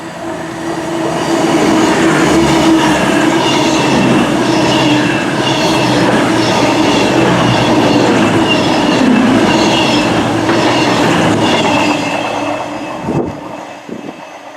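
A train rolls loudly past at Coleshill Parkway railway station, with a steady rumble, rhythmic wheel clatter and a higher squealing tone before it fades out with a few final clunks.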